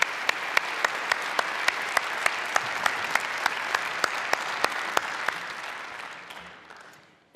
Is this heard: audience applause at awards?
yes